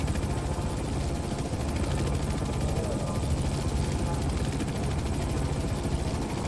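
A helicopter in the video game Manhunt 2 gives a steady, fast chopping rotor beat with a broad engine roar, holding constant and fairly loud throughout.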